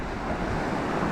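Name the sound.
ocean waves with outgoing tide at Cape Canaveral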